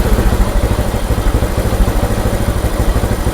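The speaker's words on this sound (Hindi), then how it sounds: "देखो बाइक का रेस बढ़ रहा है," A motorcycle engine revved up during a mileage setting adjustment, close and loud, with a steady pulsing throb and rattling clatter throughout.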